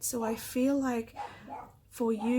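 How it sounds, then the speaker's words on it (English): Dogs bark and yip in the background in short bursts, partly masked by a person talking close by. "sorry about the dogs barking in the background"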